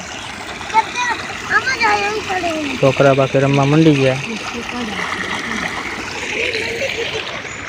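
Water flows and splashes steadily into a farm irrigation channel, a continuous rushing wash heard behind people talking.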